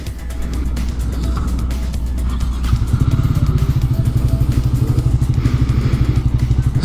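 A Triumph Speed 400 single-cylinder motorcycle idles with a low steady rumble, then settles into a rapid, evenly pulsing thump of the single cylinder, loud and close.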